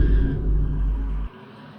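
A big SUV engine in a video game rumbles low and steady for over a second, then cuts off abruptly, leaving near silence.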